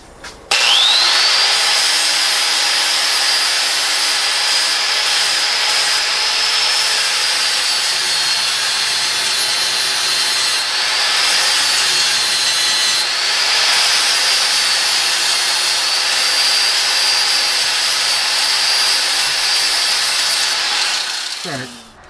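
A camp knife blade, a Hudson Bay style, is ground on a belt grinder in a loud, continuous high-pitched whine lasting nearly the whole stretch, with brief dips where it is pulled away, ending abruptly.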